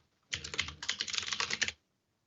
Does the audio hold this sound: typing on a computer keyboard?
yes